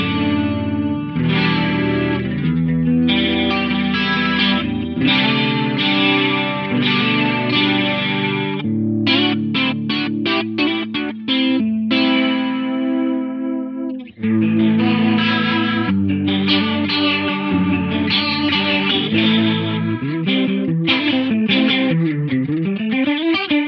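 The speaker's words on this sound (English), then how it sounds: "pretty good sounding rotary" Electric guitar runs through the rotary effect of a Quad Cortex processor, distorted chords and lead lines swirling with a pulsing, warbling modulation that speeds and slows, loud and continuous with no talking.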